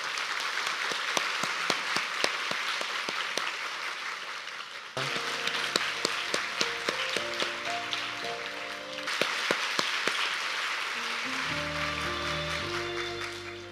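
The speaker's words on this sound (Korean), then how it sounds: "따뜻한 박수로 환영해 주시기 바랍니다" Congregation at a church service clapping warmly to welcome visiting guests, sustained applause with a few sharp, close claps standing out, while voices and mixed room sounds drift beneath in the later part.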